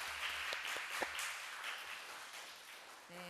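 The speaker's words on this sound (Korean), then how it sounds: "박수로 저희 환영을 해드리겠습니다" A church congregation applauds to welcome visiting guests, a soft, fairly distant patter of clapping that thins out toward the end as a voice briefly comes in.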